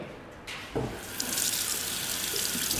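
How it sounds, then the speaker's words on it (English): A kitchen tap turns on and runs steadily while food is rinsed under it. Splashing water hisses close by, with a couple of soft knocks near the start. "So I'm just going to rinse them under the tap really quickly."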